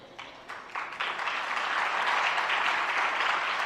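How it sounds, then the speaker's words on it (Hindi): A sermon audience breaks into applause, starting with a few scattered claps that quickly swell into steady, dense clapping from a large crowd, loud and sustained to the end. "ताली बजाने से काम नहीं होगा"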